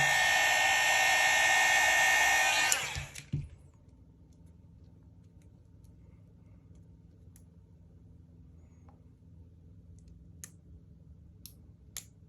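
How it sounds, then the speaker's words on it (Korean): Protective film peeled from a Daiwa fishing reel gives a loud, continuous ripping hiss for about three seconds, then cuts off, leaving a quiet room with a few faint scattered clicks. "이렇게 엣지 부위부터 먼저 찾으셔가지고 쭉 당겨주시면은 제거가 됩니다"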